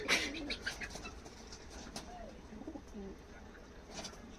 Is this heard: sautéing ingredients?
no